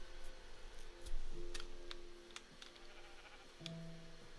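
Sheep in a modded Minecraft world bleat in short, wavering calls, a couple of them near the end, amid scattered soft ticks and clicks of game activity and a faint background drone.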